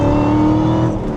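A modified C7 Corvette pulls hard after a downshift into third gear, its engine roaring loud and close in a short, sustained burst of revs.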